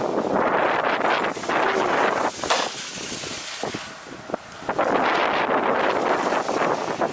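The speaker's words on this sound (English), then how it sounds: "it's a strong gust" Strong gusts of wind roar across the microphone inside a truck repair shop, surging loudly, easing briefly in the middle, then blasting back in.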